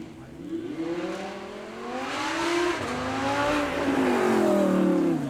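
An Audi R8 V8 engine revs up and down at a supercar weekend, its rising and falling howl building louder over several seconds, close and dominant with no talk.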